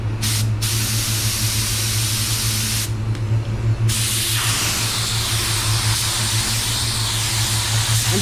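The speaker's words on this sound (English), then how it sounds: "I'm spraying at 25 psi." Spray gun applying candy red paint at 25 psi, a steady continuous hiss running loud and close throughout, with a low hum beneath and brief breaks in the spray near the start and around the middle.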